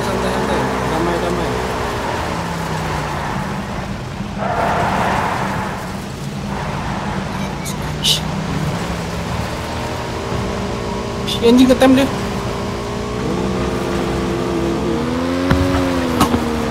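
Car engine droning and revving in PUBG, a steady motor hum running under excited group chatter and shouting throughout, with a few brief sharp bursts near the end.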